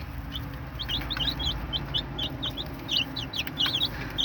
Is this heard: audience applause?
no